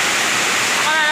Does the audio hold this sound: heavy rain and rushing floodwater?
yes